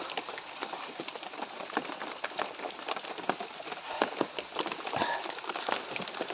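Heavy rain falls steadily outdoors, a dense wash of hiss with scattered sharper drop impacts, close and fairly loud throughout with no voices.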